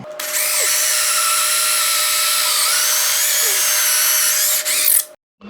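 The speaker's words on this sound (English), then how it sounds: "and then I'm going to drill." Power drill boring through wood while building a foldable workbench, a steady loud high whine running continuously for about five seconds before cutting off abruptly.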